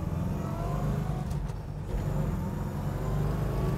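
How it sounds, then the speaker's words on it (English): A 1968 Chevrolet Impala engine runs with a smooth, steady rumble, loud and close throughout, holding an even drone with only slight shifts as it moves through the gears. "Listen to this. It just purrs, goes through the gears so nice."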